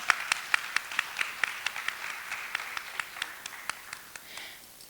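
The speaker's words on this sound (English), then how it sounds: "Let's give her a round of applause." Applause from an audience at a Bahamas conference session, where a few distinct hands clap in a quick, fairly regular rhythm over a softer background patter, quiet and gradually thinning out toward the end.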